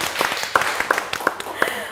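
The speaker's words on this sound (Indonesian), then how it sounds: "Boleh tepuk tangannya?" Scattered hand claps from a small audience at an Alva electric motorcycle launch event, several distinct sharp claps spaced irregularly over a broadband wash, fairly close and moderate in level.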